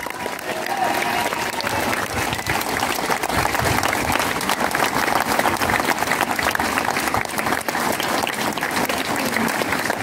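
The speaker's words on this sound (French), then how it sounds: "On peut les applaudir." A large crowd at Bastille Day festivities in Chevigny-Saint-Sauveur, France, applauds steadily and loudly, sustained clapping that fills the whole stretch without letting up.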